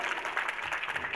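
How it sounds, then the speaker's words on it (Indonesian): A crowd claps at an Indonesian government ministry event honoring village facilitators, a brief burst of dense, even applause at moderate volume. "tepuk tangannya keras itu berarti pendamping desa ini"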